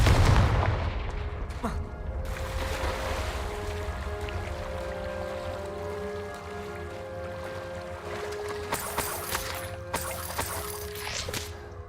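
A Confringo fire spell blasts in the video game Hogwarts Legacy, starting with a loud booming hit and followed by a sustained rumbling roar with crackling bursts near the end.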